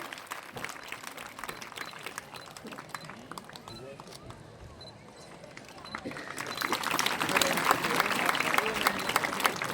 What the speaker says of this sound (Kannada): ಜೋರಾದ ಚಪ್ಪಾಳೆಯೊಂದಿಗೆ ನಾವು ಸ್ವಾಗತಿಸೋಣ